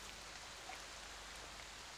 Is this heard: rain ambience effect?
yes